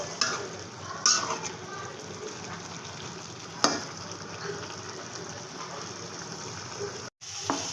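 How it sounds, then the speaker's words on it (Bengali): Raw tomato sizzles in oil in a pan while being stirred for a radish and potato curry with tengra fish, a steady frying hiss broken by a few sharp scrapes and clinks of the spoon. "আমি একটু টমেটোটা ভালো করে লেড়ে দেব"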